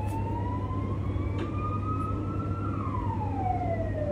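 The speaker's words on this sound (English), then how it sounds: "They abuse those sirens here, or I'm not used to city life anymore." An emergency vehicle siren wails through a city street, one long rising tone that levels off and then slides downward, heard at moderate distance over a low steady hum.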